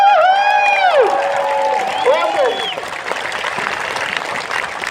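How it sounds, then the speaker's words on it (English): A crowd at a Freedom Day rally in New Zealand claps and cheers loudly, with whoops rising over steady applause; a voice speaks briefly near the start. "Everyone give a round of applause."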